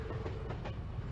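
Steady low rumble of a moving train in the video game Trails to Azure, with faint rhythmic clacking of wheels on rails, continuous and close.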